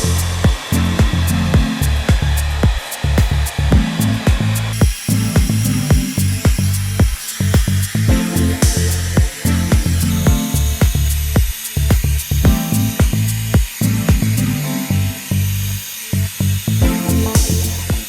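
A hair dryer blows hair dry for an undercut style, a loud, close whooshing drone that is repeatedly interrupted and shifts in tone as the airflow is moved and cut in and out, with no talking.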